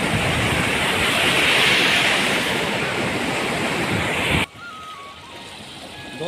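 Fast, glacier-fed mountain stream rushing loudly and close in a steady broadband roar, cutting off abruptly near the end and leaving quieter background sound.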